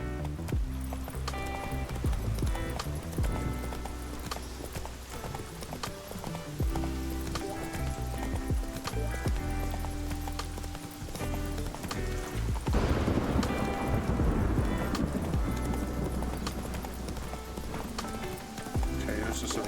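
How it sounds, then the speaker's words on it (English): Horse hooves clip-clop at a steady walking pace in The Witcher 3, over layered ambient game sounds and music, with rain-like patter joining midway. "Okay, there's just a random horse there."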